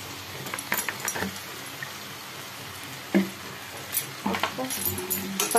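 Water is poured into a pan in a few short bursts, with clinks and splashes close by and a quiet kitchen in between.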